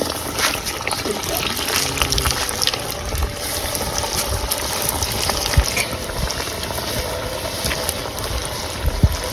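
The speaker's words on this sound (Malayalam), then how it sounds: "നമ്മുടെ ഫ്രൈഡ് ചിക്കൻ റെഡി ആയിക്കൊണ്ടിരിക്കുകയാണ്" Chicken pieces fry in hot coconut oil with a steady, close crackling sizzle and scattered pops, continuous throughout.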